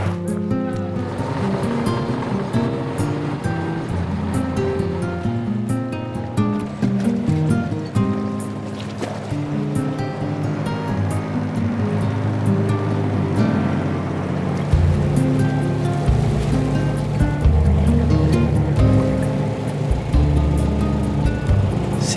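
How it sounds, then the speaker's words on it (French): A fishing boat motors along the sea around Salina, a volcanic island off Sicily, its steady engine drone mixed with waves and water rushing past the hull, loud and continuous throughout. "Antonio qui va nous amener tout autour de l'île de Salina à bord de son bateau de pêcheur"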